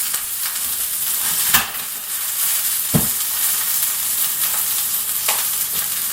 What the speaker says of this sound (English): start searing up the second roast